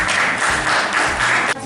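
Audience applause at a classroom group presentation, a short burst of steady clapping that cuts off near the end.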